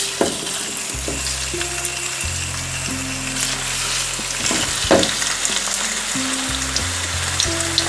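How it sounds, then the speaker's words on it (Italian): Tuna sizzling in a pan with golden garlic and onion, a continuous close, loud frying hiss with crackles and occasional utensil clinks, no talk. "E ora lo lascerò rosolare bene su entrambi i lati"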